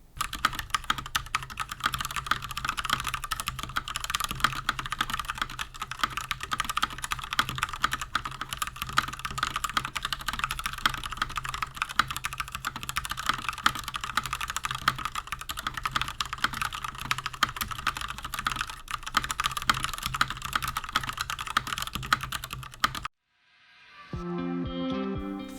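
Rapid, continuous clacking from a stock Akko 3087 Matcha Red Bean keyboard with Gateron Pink linear switches and scooped FNJ keycaps, close and crisp, ending abruptly before a short different sound at the close.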